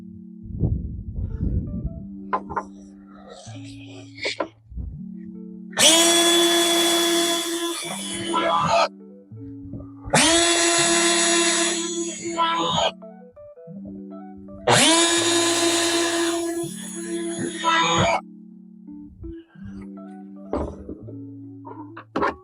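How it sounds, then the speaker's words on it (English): A power drill drives screws to mount an overhead shelf net in a Ford Transit van, three loud whining bursts of a few seconds each, separated by clunks and handling noise. "Now insert your screws. Once again, just get them snug."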